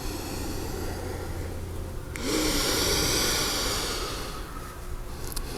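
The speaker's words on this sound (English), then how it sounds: "Good breathing, I hear." Slow, deep breathing during a yoga session, a long airy exhale swelling then fading, close and steady with no talking.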